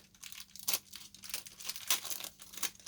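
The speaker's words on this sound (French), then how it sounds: "Ensuite, je vais les déballer au fur et à mesure." Shein scrapbooking items being unwrapped from their packaging, with repeated crinkling and tearing bursts of plastic at an irregular pace, close and fairly quiet, no talking.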